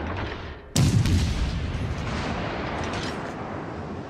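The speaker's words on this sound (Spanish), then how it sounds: "el Königsberg ahora te está disparando" Warship guns firing during a World of Warships naval arena battle, a sudden heavy boom followed by a rumbling roar that stays loud and dense with no talk.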